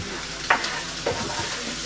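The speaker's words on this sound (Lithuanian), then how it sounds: "Dabar apkeptas daržovės supilu į puodą, kur yra jautienas su pomidorais" Fried vegetables tipped into a pot of beef and tomatoes for a lasagna sauce, giving two short scraping clatters against a steady low sizzle and stirring, close by with no talk.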